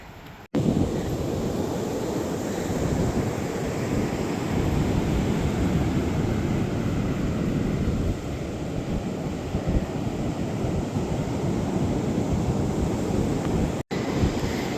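Ocean waves washing up a beach on the Oregon coast, a loud continuous roar of surf with heavy wind buffeting the microphone throughout.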